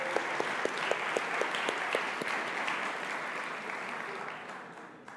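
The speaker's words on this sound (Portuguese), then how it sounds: "Uma salva de palmas para esses." Applause from a church congregation, a steady wash of many hands clapping that holds for several seconds and then gradually thins and fades toward the end.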